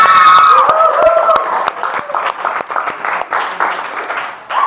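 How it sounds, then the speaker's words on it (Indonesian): A class of students applauds loudly in a classroom, a dense burst of clapping mixed with children's shouts and cheering voices, close and lively throughout. "tepuk tangan dong buat kita semuanya"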